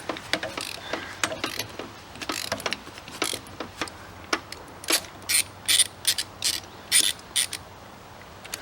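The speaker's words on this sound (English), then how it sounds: "take a 32mm socket, put it into gear, and it's fairly easy to start removing this" Repeated ratchet clicks from a 32mm socket wrench loosening the sprocket nut on a KTM adventure motorcycle, coming in short close bursts of clicking and mechanical ticks with quiet gaps, no talk.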